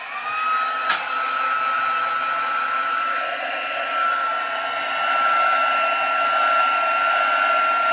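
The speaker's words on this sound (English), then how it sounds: "And then I'm going to blast it with the heat tool" A heat embossing tool blows hot air in a steady, loud whirring roar close by, with a single brief click near the start and no talking over it.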